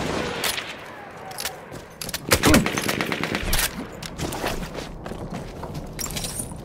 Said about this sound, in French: C'est une mitrailleuse ennemie.